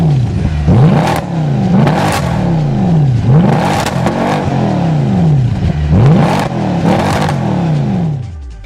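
A Mercedes-Benz E63 AMG (W212) V8 engine revs repeatedly in quick bursts toward 7,200 RPM, its deep exhaust note rising and falling about seven times, loud and close.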